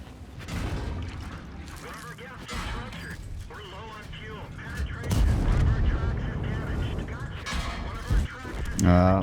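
Tank cannon shots in World of Tanks boom out several times among game sounds and impacts, fairly loud, with someone commenting throughout.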